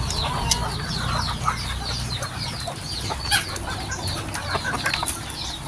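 Chicks clucking and cheeping while pecking at corn grits and chick grower feed, a busy flock with many overlapping chirps and short calls above a steady low background.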